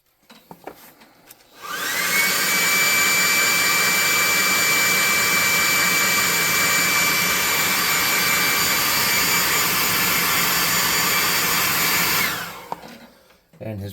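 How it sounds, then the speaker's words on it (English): An air gun blows on a painted miniature, a loud steady hiss that starts abruptly, holds with a high whine for about ten seconds, then cuts off, with faint clatter before and after. "I'm going to hit him with the air gun real quick."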